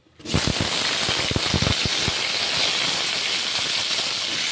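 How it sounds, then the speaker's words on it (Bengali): Cut potatoes, eggplant and beans hitting hot oil in a pan, a sudden loud, dense sizzle and crackle that starts abruptly and holds steady, with sharp pops near the start. "আলু, বেগুন, শিম এগুলো কেটে ধুয়ে পরিষ্কার করে রেখেছি। এবার এগুলো তেলের মধ্যে দিয়ে দেবো।"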